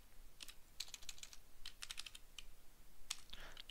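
Computer keyboard keys typed in quick bursts while entering a terminal command to change directory and run a module, with short clustered clicks separated by brief pauses, close and fairly quiet.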